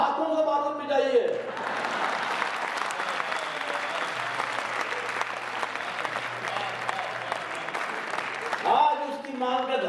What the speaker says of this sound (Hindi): ताली का पूरा सदन अब इस बात पे बजाएगा